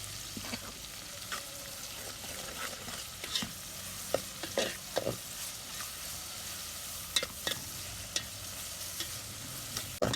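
Onions fry to golden brown in a pan for a brain curry, a soft steady sizzle with occasional stirring scrapes and clinks of a spoon, fairly quiet and without speech.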